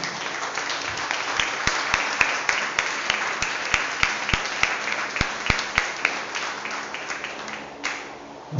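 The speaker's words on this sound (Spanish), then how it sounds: "Denle un fuerte aplauso al Señor." A church congregation gives a loud, sustained round of applause during a sermon, dense clapping with sharp individual claps standing out near the front before it tapers off.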